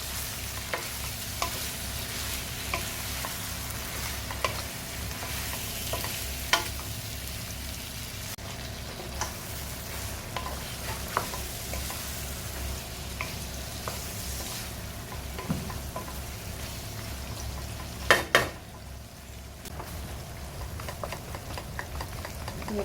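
Long chili, capsicum and curry leaves fry in a pan for Indonesian chicken, a continuous dense sizzle and crackle with scattered scrapes and clicks of stirring, and a brief louder knock near the end.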